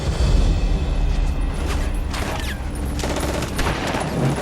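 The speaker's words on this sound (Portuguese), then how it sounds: "Continuem atirando!" Dense, continuous gunfire and explosions from a WWII beach landing battle against German forces, with rapid overlapping bursts and booms over a constant loud roar and no talk.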